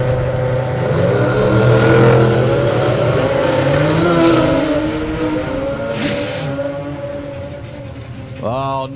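Drag racing cars, one supercharged and one turbo rotary, roar loudly at a drag strip, a sustained engine blare with rising revs filling the clip as a commentator talks over it.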